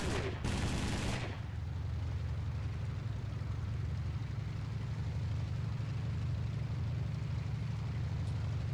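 Short loud burst of gunfire in the War Thunder video game, then a steady low engine rumble fills the rest.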